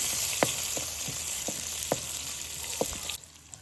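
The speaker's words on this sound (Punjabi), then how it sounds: "ਇਹਨਾਂ ਨੂੰ ਬਿਲਕੁਲ ਹਲਕਾ ਜਿਹਾ ਆਪਾਂ ਭੁੰਨ ਲਾਂਗੇ" Finely chopped green chillies fry lightly in a pan with a steady close sizzle and several sharp spatula scrapes and taps spaced irregularly, the frying hiss dropping away abruptly near the end.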